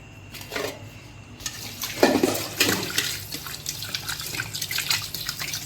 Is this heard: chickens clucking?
no